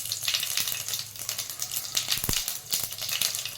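Cumin seeds and a bay leaf hit hot oil for a chickpea curry, a dense, continuous close sizzle and crackle with a few small clicks of a spoon against the pan.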